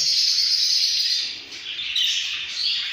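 Chicks in a nest box give a continuous stream of thin, high chirping, fairly close and moderately loud, with slight rises and dips in intensity over a few seconds.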